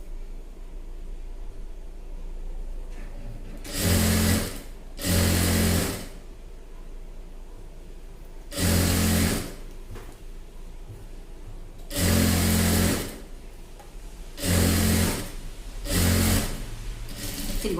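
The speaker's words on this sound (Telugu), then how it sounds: "చేతితో పట్టుకొని ఇప్పుడు స్టిచ్చింగ్ అనేది వేసుకోవాలి." A sewing machine stitches a chudidar pant in six short, loud bursts of a few seconds each, separated by pauses where the fabric is repositioned, over a steady low background hum.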